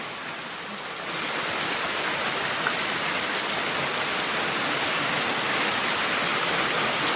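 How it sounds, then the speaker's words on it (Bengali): Heavy rain pouring down, a thick continuous roar of water that swells slightly louder after the first second and holds steady. "অনেক বৃষ্টি হচ্ছে"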